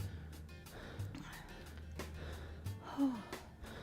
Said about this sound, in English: I'm still breathing hard.